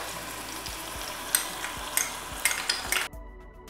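Onion and capsicum stir-fried in a pan for chilli paneer, a steady close sizzle with scattered clinks and scrapes of a spatula, then the frying suddenly drops away near the end.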